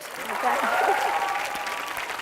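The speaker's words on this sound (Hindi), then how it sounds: "तालियां for that" Studio audience applause on a Hindi TV entertainment show set in the nineties, a steady dense wash of clapping held loud through the whole stretch, with some voices mixed in.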